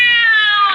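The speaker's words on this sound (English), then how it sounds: "Cleary watched in silent fascination as the cat screamed and leaped against the wall." Cat screaming as a radio drama sound effect in an Inner Sanctum Mysteries episode, a loud, piercing, sustained yowl with a bright harmonic tone and a brief rise near the end.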